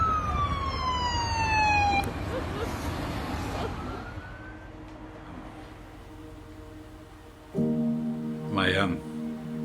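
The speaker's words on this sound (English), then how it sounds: "Comes the ambulance." An ambulance siren wails and fades under traffic noise, with a steady tone sounding near the end.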